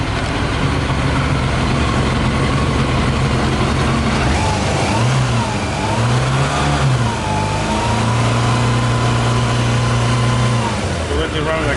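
A Yamaha motorbike engine runs on whisky in place of petrol, holding a steady mid-pitched idle that rises into a few short revs and then settles again. The engine is close, continuous and moderately loud.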